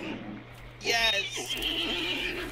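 A horse in the video game Hunt: Showdown gives a loud, close neigh and whinny, with game ambience and faint voices underneath.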